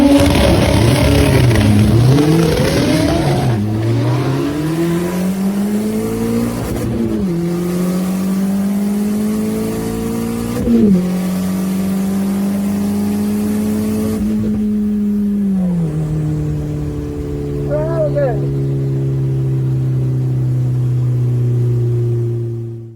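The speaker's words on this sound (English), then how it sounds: "Still not revving out properly, it's bogging down between gear changes, top end" An AWD Nova race car engine revs loud and close, climbing repeatedly then falling back as it bogs down between gear changes, several rising pulls in succession, with no talk over it.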